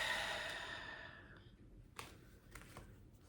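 Tarot cards being shuffled by hand, a soft riffling burst at the start that fades, followed by a few quiet taps and handling sounds, close and faint.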